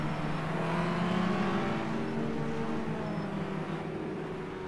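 Race cars in the rFactor 2 racing game roll slowly in single file behind a safety car toward the start-finish straight at Symmons Plains, giving a steady, continuous engine drone with no one speaking.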